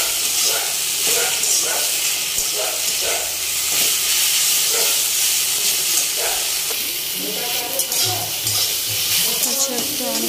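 Jute leaves fry in a pan with green chilli, salt and turmeric, giving a steady close sizzle and hiss with repeated scraping stirs throughout, steam rising, and no talk.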